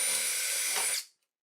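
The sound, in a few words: drill bit cutting out plastic crank knob of Proton pack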